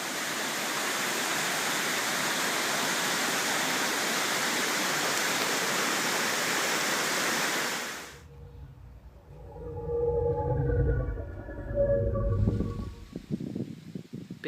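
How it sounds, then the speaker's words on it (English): Rain falls outdoors in Pha Taem National Park as a steady, loud, even hiss for about eight seconds, then cuts off abruptly, leaving quieter, uneven rustling and low rumbling. "Starting to rain, we gotta take shelter."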